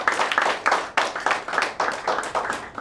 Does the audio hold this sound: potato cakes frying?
no